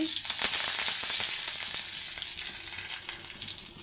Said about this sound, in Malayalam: നമ്മൾ ആദ്യം ഓയിൽ ഒഴിച്ച് കൊടുത്തു അത് ചൂടായിട്ടുണ്ട് നമുക്ക് കുറച്ച് കടുക് ഇട്ട് കൊടുക്കുക കുറച്ച് കറിവേപ്പില